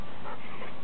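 A small dog gives a short, close whimper over a brief moment, thin and plaintive, with no talking.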